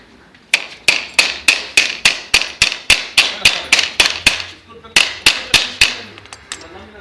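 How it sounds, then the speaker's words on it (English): A hammer strikes a rivet being set on a PVC knife sheath, about twenty sharp, ringing blows in a fast, even rhythm with a short pause partway through, loud and close. "The rivet here. You got to set the first rivet."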